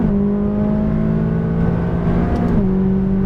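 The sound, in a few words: McLaren 570S engine accelerating on a race track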